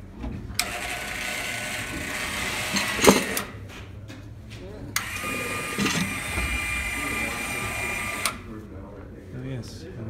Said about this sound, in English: and then you have electric winch